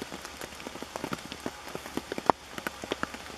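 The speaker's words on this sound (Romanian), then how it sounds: "Între timp ploaia s-a mai liniștit." Light rain patters on a tent during a lavvu and pyramid tent comparison, with soft irregular drops close by, some sharper individual hits, and no voices.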